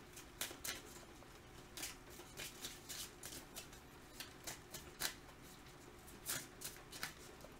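A tarot card deck being shuffled by hand, with a quiet run of soft, irregular riffles and crisp card snaps close by, no voices.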